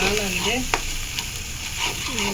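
Masala with green chillies being stirred and fried for a pangas fish curry, a close, steady sizzle with spatula scrapes against the pan and a few sharp ticks, while a voice speaks briefly at the start and end.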